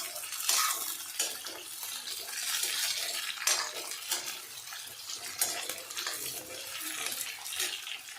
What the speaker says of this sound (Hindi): मैंने डाल दिया है तेल में फ्राई करने के लिए